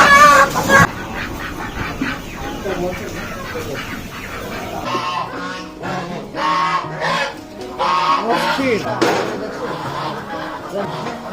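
Live chickens and ducks at a Nanjing meat and fish market cluck and squawk in repeated bursts close by, with people talking in the busy market around them.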